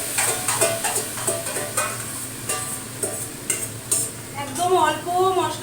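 Meat frying in a pan is stirred in short scraping bursts over a steady sizzle, with utensil clinks close by and a voice talking faintly in places.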